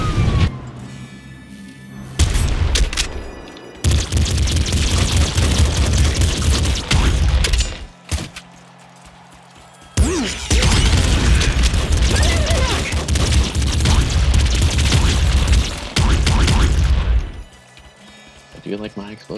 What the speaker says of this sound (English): I do like my explosions.